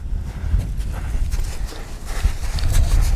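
A fussy horse shifts and steps about nearby, its hooves landing in dull, irregular thuds and scuffs over a constant low rumble of ambient noise.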